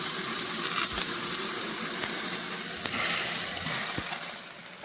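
Food sizzles on a barbecue grill that has just been shut off, a steady, dense hiss with faint crackles and pops running throughout, fairly loud and close, with no talking.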